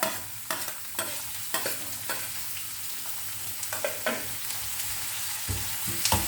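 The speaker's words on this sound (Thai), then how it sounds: "ผัดให้มะเขือเทศมันสุกก่อนนะคะพี่น้อง" Tomatoes stir-fried with garlic and shallots in a pan give a steady sizzle broken by sharp, repeated scrapes and clacks of the utensil, with no talking.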